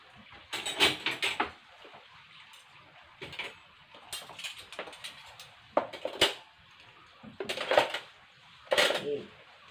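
Metal silverware clinks and rattles in several short bursts as utensils are handled, dried and put into a covered container, with quiet pauses between handfuls.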